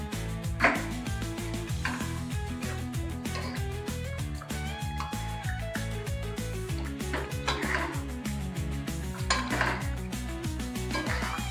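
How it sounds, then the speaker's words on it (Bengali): Raw egg is stirred into chicken in a metal pan, giving repeated close clinks and scrapes of a utensil against the pan at a steady rhythm over a faint sizzle, with no talking. "কাঁচা ডিমটা আমি উপর থেকে দিয়ে দিলাম, দিয়ে ভালো করে আমি ঘেঁটে দেবো।"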